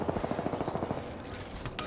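Gunfire in the Apex Legends video game, a loud rapid string of shots for about a second, followed by sharper hissing impacts and a final burst, all close and dense.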